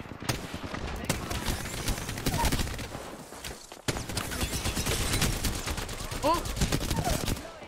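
Dense, continuous gunfire in the battle royale shooter Apex Legends, overlapping automatic bursts and rapid shots nearly filling the whole stretch, with a brief pause midway and a player exclaiming over the noise.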